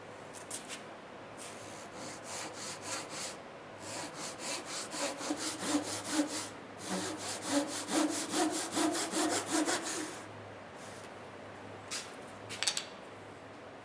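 A bandsaw rips through wood for a kumiko box, a close, continuous rasping buzz that swells and fades across several passes, with a brief quiet break and a few short scrapes toward the end, no voices.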